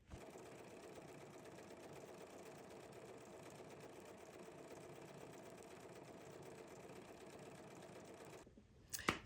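An embroidery sewing machine stitches steadily and close up in a fast, continuous mechanical whir that runs alone for about eight seconds, then stops abruptly.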